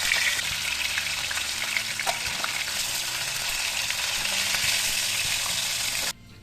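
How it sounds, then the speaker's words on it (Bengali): A fish head fries in hot oil with a dense, continuous loud sizzle and crackle, close by, which drops away abruptly near the end. "মাছের মাথাটা লাল লাল করে ভাজা হয়ে গেছে"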